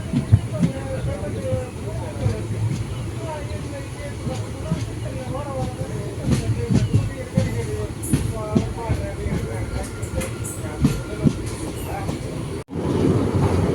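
The Malabar Express passenger train rolls along the rails with a steady rumble and rhythmic clatter, loud and close, crossing the Netravati River bridge near Mangaluru Central, with people talking underneath.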